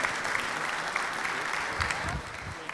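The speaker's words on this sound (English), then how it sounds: "Let's give them another round of applause" A room of Rotary Club members applauds after a panel discussion at their meeting, steady moderate clapping that holds evenly for a couple of seconds.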